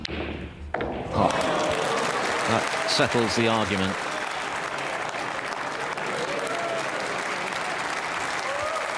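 Snooker crowd applauding at the British Open 2023 third round, a sustained broad wash of clapping from a large audience with a commentator talking briefly over the start.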